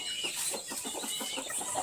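A rooster makes a run of quick, rhythmic clucks up close, continuing steadily over a bright background hiss.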